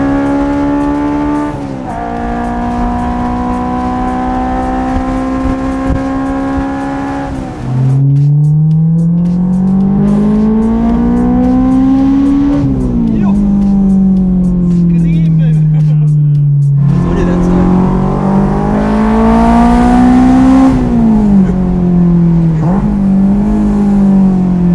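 A Honda S2000 with an aftermarket exhaust accelerating hard, heard from inside the cabin as a loud, rising engine note that climbs through repeated gear pulls, with people talking over it.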